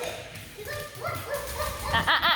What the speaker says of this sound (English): Welcome home, Jack Dog